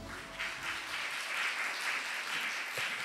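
A seated audience applauds at an international arts education forum, a broad, even patter of many hands clapping throughout at moderate distance, with no one speaking.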